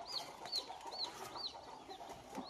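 A native country hen with her chicks gives short, high chirping calls repeated roughly every half second, faint and fairly close, with no speech.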